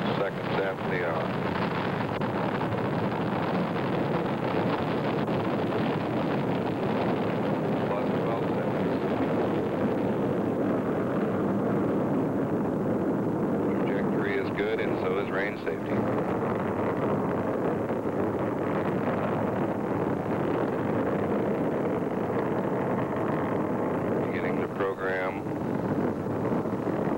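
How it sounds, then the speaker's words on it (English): Atlas/Agena rocket lifting off for the Gemini 10 launch: a sustained, steady broadband roar that fills the whole clip at constant loudness, with voices talking faintly over it. "And we've got a lift off at up looks like 46 seconds after the hour."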